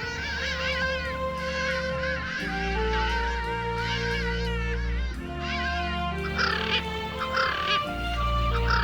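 Hadada ibis calling on the East African plains, loud honking cries rising and falling in repeated bursts, close and clear with layered overlapping calls.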